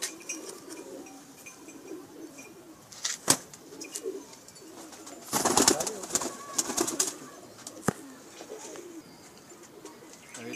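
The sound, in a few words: Pakistani pigeons cooing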